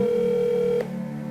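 Telephone ringback tone on a call being placed, a steady electronic tone that holds for most of the moment and then cuts off abruptly, leaving quieter line hum.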